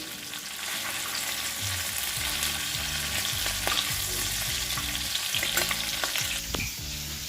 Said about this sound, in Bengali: চিংড়ি মাছ, বড় মাছ, মাছের ডিম একসঙ্গে ভাজতে দিয়েছি